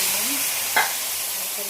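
A mustard, poppy seed and ginger paste hits a hot pan with one short wet splat, the frying settling back to a steady low sizzle.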